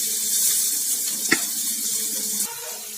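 Grated carrots fry in hot ghee in a kadai, giving a steady bright sizzle throughout with a brief clink partway through and the hiss easing slightly near the end; nobody speaks.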